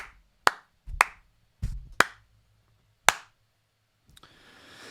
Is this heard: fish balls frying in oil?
no